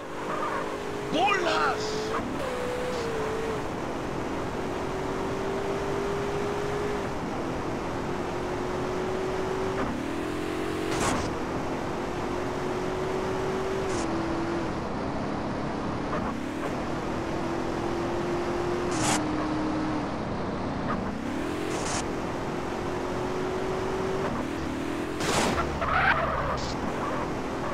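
A taxi car pulls away and drives off, its engine revving up through repeated rising gear pulls with brief tire squeals, loud and close, while someone briefly shouts over it.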